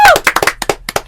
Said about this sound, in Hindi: अदिति के लिए एक बार जोरदार तालियां।